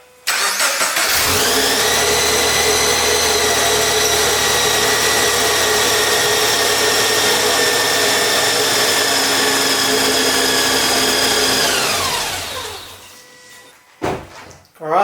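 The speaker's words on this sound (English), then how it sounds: "and engine running." A car engine starts and idles steadily with a droning hum and whine for about ten seconds, then cuts off, leaving brief faint clatter.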